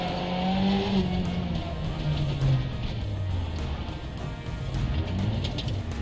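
Rally car sliding through a corner under handbrake, engine note sweeping down and up with tyre scrub, loud and continuous throughout with no talk.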